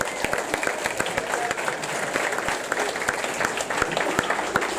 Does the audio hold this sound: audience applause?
yes